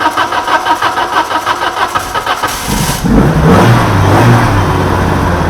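Car fitted with a swapped Peugeot XU9J4 engine, cranking with rhythmic starter chugs for a few seconds before catching with a burst and settling into a loud rough idle nearby.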